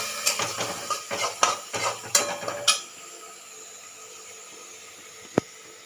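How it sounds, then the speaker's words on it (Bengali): Onion is stirred in a pan with a utensil, giving a quick series of close metallic scrapes and clinks for a few seconds, then near quiet with one last sharp tap. "এবার আমি এর মধ্যে পেঁয়াজটা দিয়ে দিচ্ছি।"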